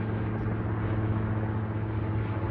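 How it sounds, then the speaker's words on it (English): Helicopters flying overhead on a snowy farm on a Sunday, a steady low engine and rotor drone that holds at constant loudness throughout with no speech. "Helicopters."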